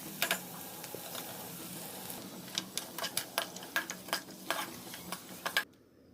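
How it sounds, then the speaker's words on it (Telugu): Onions fry in a pan for a capsicum and coconut dish, a soft sizzle underneath as a utensil stirs with a quick series of sharp scraping clicks near the end, then sudden quiet. "ఆనియన్స్ అనేది వీటిలో యాడ్ చేసుకొని బాగా ఫ్రై చేసుకోవాలి"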